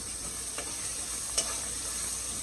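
A rice and lima bean dish is stirred in a pot over the heat, giving a brief, steady sizzling hiss broken by a couple of light spoon scrapes.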